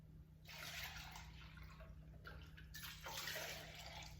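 Spoon scraping leftover tomato sauce out of cans over a pot, heard as close, wet, broadband scraping and sloshing in bursts with brief pauses, over a low steady hum.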